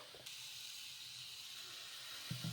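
Semiya tomato dosa batter spreading on a hot pan gives off a continuous soft sizzling hiss, steady and close, with a faint clatter near the end.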